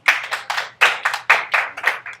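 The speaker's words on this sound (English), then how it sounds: "Let's give her a round of applause." Classroom applause during a physics lesson on Newton's first law: a short burst of hand clapping in uneven waves of about six swells, fairly close and bright, with no talking.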